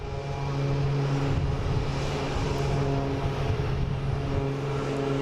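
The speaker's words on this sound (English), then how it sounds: "Taking off is Cessna Citation Latitude heading to Des Moines." A Cessna Citation Latitude business jet takes off at Boston Logan International Airport, its engines giving a steady, loud broadband roar with a faint whine that holds for about five seconds.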